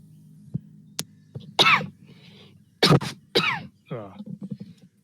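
A few harsh, ragged coughs from a player voicing the character Bowie, who is coughing up a little blood during a tabletop roleplaying session. The coughs come in short separate bursts, close and fairly loud, over a low background hum.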